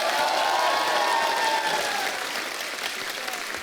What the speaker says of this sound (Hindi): शंकर सर के लिए एक बार जोरदार तालियां होनी चाहिए।